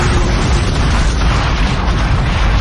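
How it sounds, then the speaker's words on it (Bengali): A loud, sustained explosion rumbles for the whole stretch, a dense roaring boom of a helicopter blast in a dramatized forest scene, heavy and close with no break. "নিমেষে ঘটল বিস্ফোরণ"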